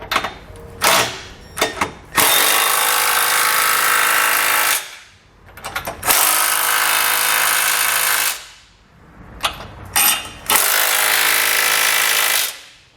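A power tool with a 19mm socket snugs the flange nuts of a Curt trailer hitch receiver on a 2019 Chevrolet. Loud, close bursts of buzzing impact hammering come in three long runs, each led by short stuttering blips, with pauses between them.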